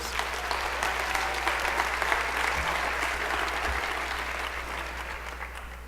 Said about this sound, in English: So a round of applause for everybody who was involved with this program